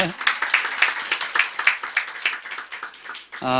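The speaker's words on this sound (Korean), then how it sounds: "더 크게 박수를 치셔야 돼요." Church congregation clapping in welcome during a service, a dense run of overlapping hand claps at moderate loudness that cuts off near the end as a voice begins.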